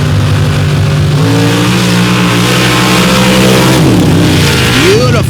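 A pro stock drag racing truck fitted with a wheelie bar launches at a drag strip in Paducah, its engine a loud, steady roaring drone whose pitch climbs and shifts as it pulls away.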